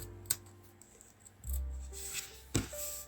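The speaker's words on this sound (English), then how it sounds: "I'm just going to very carefully ease my scissors underneath and snip down the border" Scissors snip down the border of a piece of fabric in a textile art session, giving a few sharp, close clicks and rustles spread over a quiet background.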